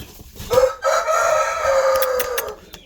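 A white Korea breed rooster crows once, a loud, close, drawn-out call that rises and holds for about two seconds before trailing off, with faint barnyard noise around it.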